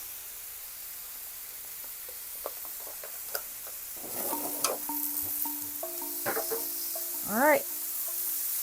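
Vegetables are tossed onto an oiled Blackstone griddle and begin to sizzle, with soft hissing plus scattered clinks and scrapes of a spatula building up partway through; a voice speaks briefly.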